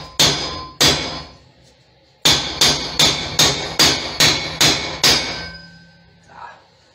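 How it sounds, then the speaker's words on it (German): A hammer strikes a large metal fitting, two blows then a steady run of eight sharp, evenly spaced ringing impacts, close and loud, ending in a brief faint knock. "Direkt einmal den Hammer mit der nicht balligen Oberfläche nehmen, damit es von die Kante ein bisschen weniger unscharf wird."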